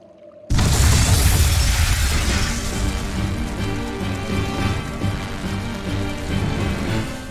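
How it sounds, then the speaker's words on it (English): A loud explosion of flamestone, sulfur and oil in the video game Tales of Berseria bursts in sharply after a moment of quiet, then rumbles and crackles on with debris-like clatter for several seconds. "Tools of flamestone, sulfur, and oil. Those will explode."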